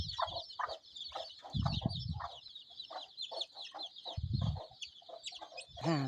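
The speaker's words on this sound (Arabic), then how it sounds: "دجيجات هنا 6 دجاجات كلهم بوليداتهم هنايا في هاد الكرياج" Six hens with their chicks in a coop, the hens clucking in short repeated bursts alongside a constant high peeping from the chicks, close and fairly quiet, with one louder squawk near the end.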